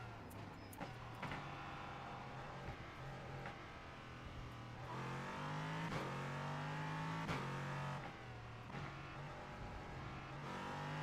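Race car engine in the sim racing game Assetto Corsa Competizione on the Hungaroring track, steady high revving with rising upshift sweeps and gear changes, loud and continuous throughout with no talk.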